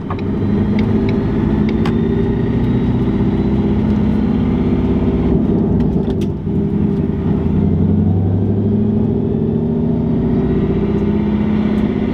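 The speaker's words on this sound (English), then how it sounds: "Something is whining in the motor." A drift car engine runs steadily and loudly with a thin, continuous whine from the motor riding above its low rumble, no voices.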